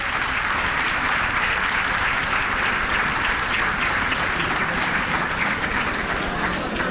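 A seated audience at a family funfair claps in a dense, steady wash of applause that runs unbroken for the whole stretch, moderately loud with no talk on top.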